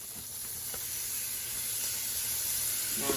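Leftover shrimp sizzle in a frying pan with southern-style fried cabbage, a steady, even hiss of hot fat that runs unbroken throughout at moderate loudness, with no voices.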